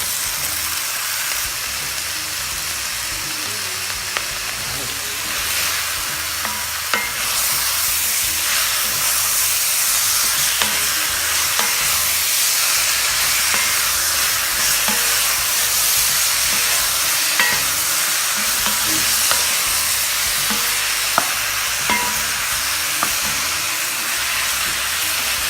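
Thyme and tomato cooking with lamb in a pan, a constant bright hiss and sizzle with faint occasional clicks of stirring, close and even throughout.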